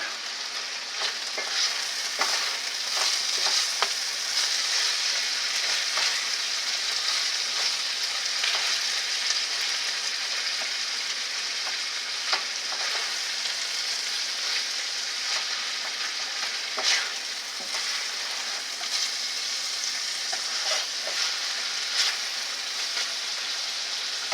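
Ground meat browning in a covered pan for a deep dish pizza meat sauce, a steady close sizzle with fine crackling pops throughout, no voices.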